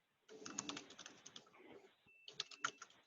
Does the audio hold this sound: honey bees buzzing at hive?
no